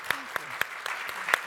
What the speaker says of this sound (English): Let's give a great round of applause to these tremendous leaders.